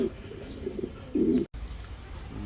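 Fancy pigeons cooing close by at a pigeon farm, several soft throaty coos in a row, then a brief gap and quieter background noise.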